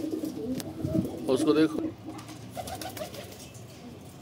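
Pet pigeons cooing, including one back after a month missing, a few low throaty coos close by mixed with a voice talking over them.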